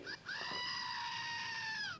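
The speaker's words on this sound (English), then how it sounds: "That's the goat." A goat, the station mascot, lets out one long, loud, wavering bleat that sounds almost like a scream and carries on steadily for nearly two seconds, alone and close.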